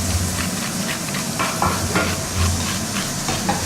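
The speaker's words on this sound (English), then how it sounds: "Right, so scraping out all of the seeds." Seeds being scraped out of peppers in a kitchen, heard as soft, scratchy strokes at close range over a steady background hiss, with no talking.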